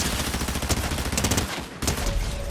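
Valerius Mythic SMG firing in Fortnite, a dense rapid automatic burst of crackling shots that pauses briefly and resumes, loud and close.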